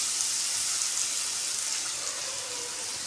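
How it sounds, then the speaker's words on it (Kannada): Water pours into a pan of cooking bottle gourd, making a steady, even hiss and splash that lasts throughout without pause. "ಇದಕ್ಕೊಂಚೂರು ನಾನು ನೀರು ಹಾಕ್ತೀನಿ"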